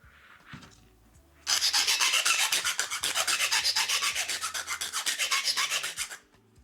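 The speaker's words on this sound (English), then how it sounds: "So from where I marked down, I'm gonna file the edges." Rapid, steady back-and-forth rasping of a nail file along the edges and tip of a fingernail, close and loud, with evenly pulsing strokes lasting about five seconds before stopping.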